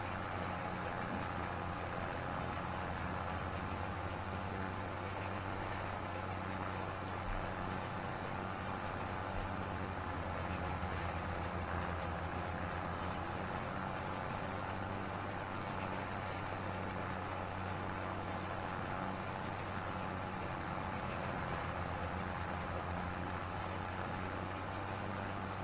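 A tractor engine runs steadily in Farming Simulator 25 during harrowing and drilling of sugar beet land, a continuous low diesel drone with no change in pitch, heard alone throughout.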